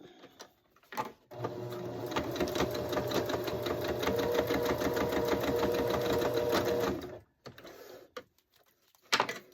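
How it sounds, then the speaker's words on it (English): Sewing machine stitching fabric for a candy cane cowboy ornament, running steadily for about six seconds after a few short bursts, then stopping, with a brief clatter near the end. "I'm just going to sew up on the big leg and run it into the crotch"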